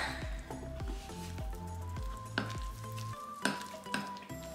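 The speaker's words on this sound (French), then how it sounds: "Et là, on vient remuer tout ça" Soy-milk scone batter being stirred in a bowl, with a spoon scraping and knocking rhythmically against the sides in repeated close, clattering strokes and a soft wet squish underneath.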